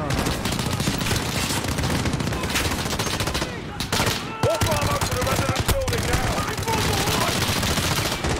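Dense, loud Call of Duty: Modern Warfare gunfire, automatic bursts and rapid single shots, fills the whole stretch, with a player's voice talking underneath.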